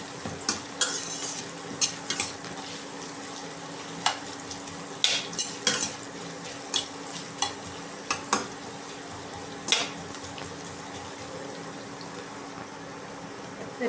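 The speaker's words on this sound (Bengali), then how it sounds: "এবার এগুলোকেও একসাথে হালকা করে ফ্রাই করে নেব" Chopped ginger and garlic frying lightly in a pan, a continuous low sizzle broken by repeated sharp scrapes and taps of a spatula stirring, close by.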